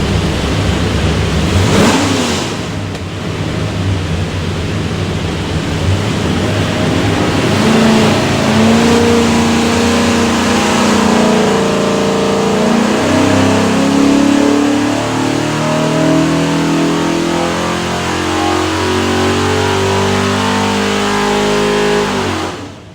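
A 427 Windsor V8 with a front sump oil pan, built for a Superformance Cobra, roars loud and close on a dyno, its pitch climbing steadily through a long, sustained pull with no talk over it.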